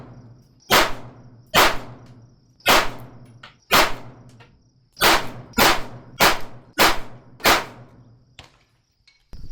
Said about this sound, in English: We're gonna have Jordan and Ian both shoot 5-round groups